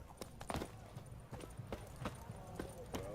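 Geralt's horse Roach galloping in The Witcher 3, a quick rhythm of hoofbeats at moderate distance, fairly faint and mixed with other game sounds.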